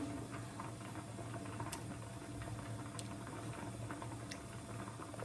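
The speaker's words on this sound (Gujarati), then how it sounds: "ઢોકળી નાખ્યા પછી આને આપણે 5 થી 6 મિનિટ સુધી ઉકળવા દેવી પડશે." Gujarati dal dhokli, a lentil stew with wheat dough pieces, boiling in a pot: a steady, soft bubbling and popping simmer throughout, with no voices.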